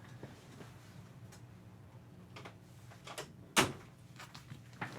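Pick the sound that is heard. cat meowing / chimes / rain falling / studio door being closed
studio door being closed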